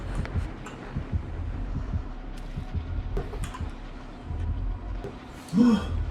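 Low, regular thumping heartbeat from the killer's approach in the Dead by Daylight video game, a steady pulse of muffled beats running under faint game ambience.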